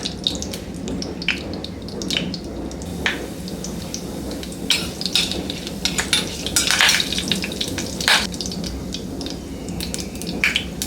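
Mustard seeds, chana dal and urad dal sizzle and crackle in hot oil for a curd rice tempering, a steady close frying hiss dotted with sharp pops, with no talk.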